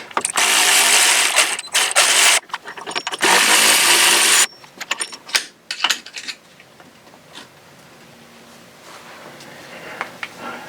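Metal tools clank and rattle while bolts are worked out of a Polaris ATV spindle, with loud bursts of clattering in the first few seconds, then scattered sharp clinks and quieter handling noises fading toward the end.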